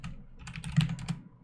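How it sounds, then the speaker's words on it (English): A short burst of quick keystrokes on a computer keyboard, close and fairly clear, clustered clicks with a few louder taps near the end. "as I was typing right now"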